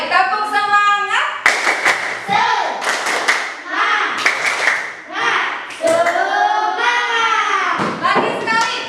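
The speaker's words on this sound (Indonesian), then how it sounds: "Ayo mulai tepuk semangat." A primary school class claps out an energetic rhythmic spirit cheer, sharp hand claps in a patterned beat mixed with children's chanting voices, loud and close.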